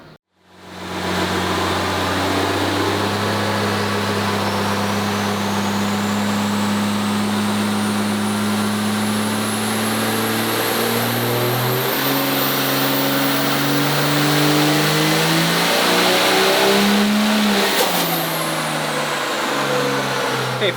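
A stock 5.9 diesel engine fitted with an added turbo in a 5088 tractor revs hard on a dyno pull, a loud sustained drone climbing steadily in pitch with a rising turbo whine, no talking.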